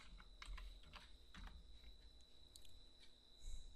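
Quiet keyboard typing, a few irregular bursts of soft key clicks with pauses between, close by over a faint steady high hum.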